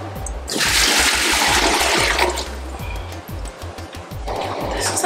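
Water gushes loudly from a tap for a couple of seconds, then trickles more quietly before surging again, with low thumping in the background.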